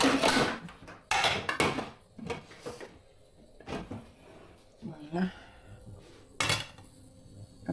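Kitchen clatter of cupboard doors, drawers and metal pans as someone rummages for a lid to cover a pot of soup left to boil, in several sharp bursts spread across the moment, with a voice talking between them.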